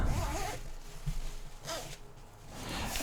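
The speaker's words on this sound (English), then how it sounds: "for the opening of the bag, you have a very nice zip with a easy to grab handle there" Zipper on a Peak Design Packable Tote V2 in charcoal being pulled open, a few scratchy zip runs in short bursts, close and fairly loud with no talking.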